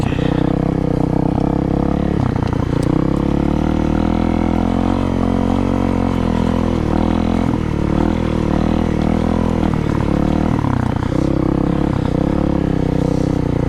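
Honda CRF250L motorcycle riding along a dirt creek road, its engine droning loud and close throughout with slight rises and dips in revs.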